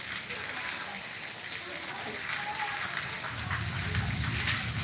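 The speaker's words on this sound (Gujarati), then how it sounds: "વરસાદ જો મિત્રો જો કડાકા નાખે વરસાદ" Heavy rain driven by wind pours down in Morbi, a steady broadband hiss of rainfall that thickens into a deeper rumbling roar toward the end, with no voices.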